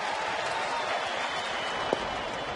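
Baseball stadium crowd at a San Francisco at Cincinnati game rumbling with steady applause and cheers of support for pitcher Cueto, a dense, distant wash of noise with one sharp clap or shout standing out briefly.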